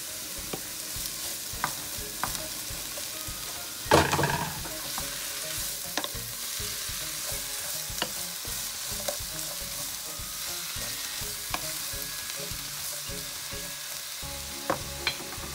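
Carrots and onion frying in a pan while being stirred, a soft steady sizzle throughout with scattered clicks and a sharper clatter of the utensil early on, close and without talk.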